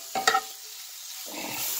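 Chopped Philly cheesesteak meat sizzles on a griddle, with a couple of quick spatula scrapes at the start before a steady soft frying hiss takes over.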